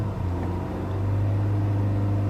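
The 2015 Lincoln MKC engine, a fairly quiet unit, is floored: a steady, loud droning hum that climbs slightly in pitch partway through and then holds evenly, with no talking.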